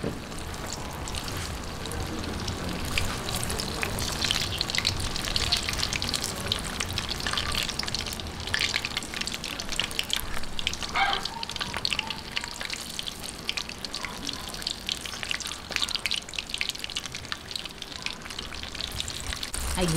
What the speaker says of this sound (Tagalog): lagyan na po natin ng ating sugar. Hihintayin lang po natin mag-caramelize yan.